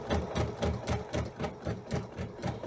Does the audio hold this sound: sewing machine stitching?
yes